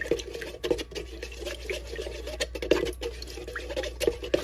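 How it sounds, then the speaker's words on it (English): Tablespoon of honey stirred into warm water in a bowl, giving soft, continuous liquid swishing and light clinks close by, steady with small bursts throughout. "Mix that around a little bit in that warm water."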